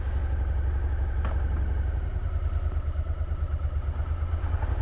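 A Suzuki SV650 motorcycle engine runs steadily at low RPM with a deep, continuous rumble and no throttle, loud and close throughout.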